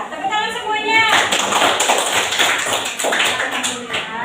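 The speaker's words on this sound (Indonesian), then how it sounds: "Ya, tepuk tangan semuanya." A class of students in an Indonesian classroom breaks into a burst of group hand clapping that runs steadily to the end, after a brief voice at the start.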